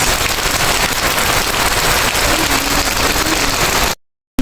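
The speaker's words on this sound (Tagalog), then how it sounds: "Lakas na ng ulan" Heavy rain pours down steadily in a loud, dense hiss that fills the whole clip, then cuts off abruptly near the end.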